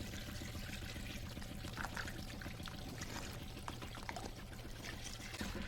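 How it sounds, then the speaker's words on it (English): Water pours and trickles steadily over a shaking table processing galena ore, a continuous, even wash of flowing liquid with faint rattling underneath, close and without talk. "The table is still shaking through the Galena."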